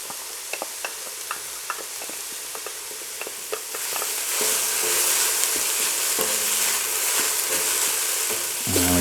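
Onion, dried cranberries and garlic cook in a pan. Light spoon clicks and stirring come first, then a steady, close hiss of frying swells and holds to the end.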